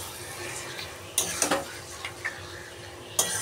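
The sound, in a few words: stirring mutton curry in a pan on high gas flame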